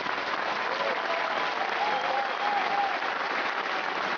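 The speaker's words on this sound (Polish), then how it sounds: "Wielkie brawa dla nich." Steady, dense applause from a crowd at a women's Muay Thai fight event in Szczecin, continuous and fairly loud throughout with no talk.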